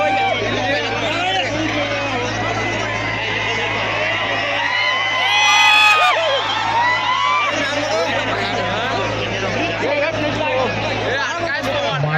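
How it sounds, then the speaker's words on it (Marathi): A huge crowd of spectators at a horse and bullock cart race during a Moharram gathering in Morab, producing a dense, loud roar of chatter, shouts and whoops that swells briefly midway and continues throughout. "शर्यत शौकीनांची तोबा गर्दी झालेली आहे"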